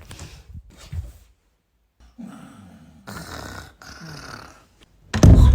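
Someone snores loudly in several rough, rasping breaths, with pauses between them and a heavy, close final snort.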